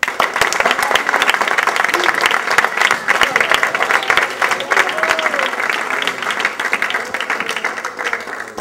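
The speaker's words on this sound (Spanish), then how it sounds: "Dale un aplauso a Cristo." A church congregation claps after a prayer, with dense, continuous applause filling the room at close range, its intensity easing slightly toward the end while faint voices mix in underneath.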